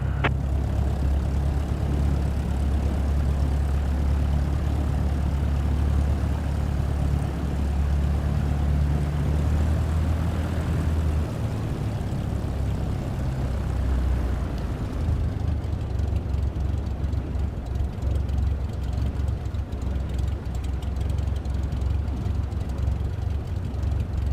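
A propeller aircraft taxis toward the hold short point in Flight Simulator 2024, its engine a steady, loud, low drone throughout that eases slightly in pitch partway as the plane slows to a stop.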